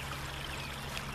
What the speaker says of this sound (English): I'm right here next to the creek running by me.